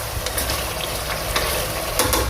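Spices with dried coriander and dried fenugreek leaves stirred with a spoon in a hot frying pan for a mutton kidney and liver dish, a steady loud sizzle with soft scraping strokes and no talking.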